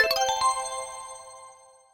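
A short bright chime of quick tones from a Samsung phone calendar alert rings out, then fades away over about two seconds, clear and close.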